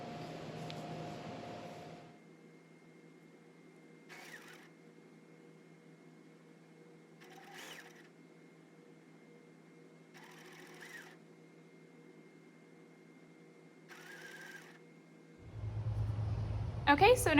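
A sewing machine runs in short bursts of steady stitching, separated by pauses over a constant low hum, with brief talk at the start and a louder rustle at the end.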